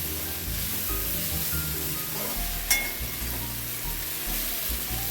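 Ground clove frying in a pan gives a continuous, steady sizzle with light stirring scrapes and one brief metallic clink partway through.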